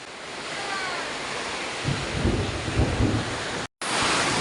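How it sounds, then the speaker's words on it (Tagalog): Heavy rain pours down in a steady, dense roar that fills the clip, loud and close, with a brief dropout near the end. "Grabe, lakas na ulan talaga."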